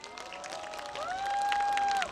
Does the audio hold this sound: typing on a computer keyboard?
no